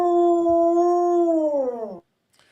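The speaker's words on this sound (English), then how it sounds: "That's my dog." A dog lets out one steady, loud, tonal howl lasting about two seconds, close to the microphone, then stops abruptly, leaving near silence with a faint sound at the very end.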